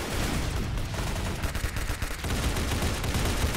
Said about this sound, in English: I started shooting red orbs